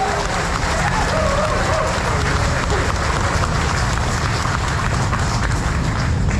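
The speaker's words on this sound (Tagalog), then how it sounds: "isang mainit na palakpak bilang pasalamat sa" A crowd at an outdoor public gathering in Pandacan, Manila, gives sustained, dense applause, loud and unbroken throughout, with voices mixed in.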